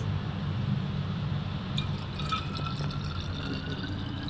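Freshly squeezed orange juice pours into a glass bottle with a soft, continuous liquid trickle and faint gurgles, close by and fairly quiet against low background noise, with no talking.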